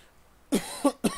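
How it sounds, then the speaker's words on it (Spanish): Three sharp coughs close by, the first the loudest, coming in quick succession with a short pause before the last. "La tos."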